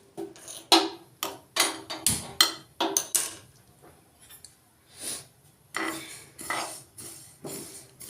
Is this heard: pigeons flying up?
no